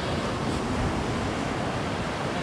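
Ocean waves wash steadily at sea during boat fishing, a continuous broadband roar of surf with wind, with no clear breaks or voices.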